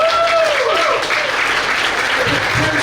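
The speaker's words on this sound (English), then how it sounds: "Round of applause for them for showing up." A crowd applauds student athletes at a live event, brisk continuous clapping with a few whistles rising over it, fairly loud and close.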